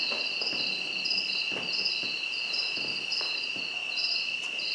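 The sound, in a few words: cicadas buzzing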